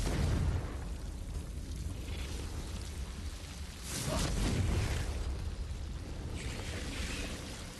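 A Confringo fire spell detonates in Hogwarts Legacy on the Switch, heard as a dense, roaring blast that swells midway through a continuous loud wash of game noise.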